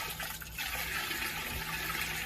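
Water churns and splashes inside a Chauvet DJ Nimbus low-lying dry ice fog machine, a close, continuous bubbling wash with a brief dip near the start.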